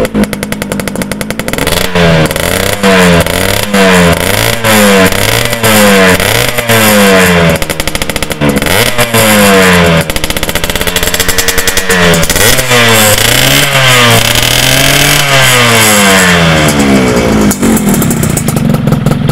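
A motorcycle engine is revved hard with repeated throttle blips, each rising and falling in a sawtooth sweep over a rough idle, very close and loud throughout, with no talking.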